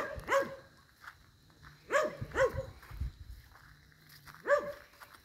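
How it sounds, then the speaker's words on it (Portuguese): A dog barks close by at an old disused factory site in a rural area, giving about four sharp barks, two of them as a quick double, with quiet gaps between. "Cala a boca, cachorro."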